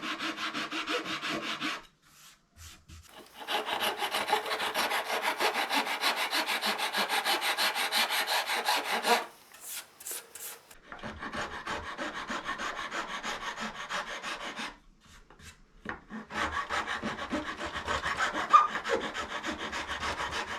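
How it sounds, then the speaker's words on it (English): A metal file rasps steadily across fret marker dots on a Stratocaster-style guitar fretboard held in a vise, working them level with the edge in long, close stroke sequences broken by short pauses. "we'll just break out a file and level those out with the edge of the fretboard"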